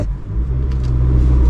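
A car engine labours up a steep hill as the clutch is slowly let out, the vehicle shuddering with vibration; a loud, steady, close low rumble that swells slightly toward the end, with no talking.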